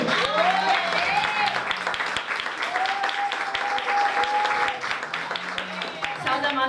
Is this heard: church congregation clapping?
yes